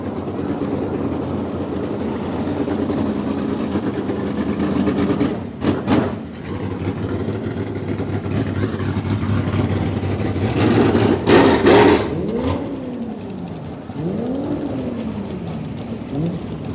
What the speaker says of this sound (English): the speed cars will quickly come out for some